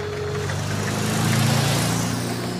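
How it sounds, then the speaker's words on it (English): A car engine hums loudly and close, swelling as the vehicle passes by and then easing off. "suddenly a magnificent motor car drives past"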